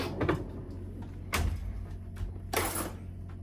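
Pull-out counter surface in a Holiday Rambler RV sliding back into place, heard as three quick rushing slides with soft thumps, close up in a quiet interior.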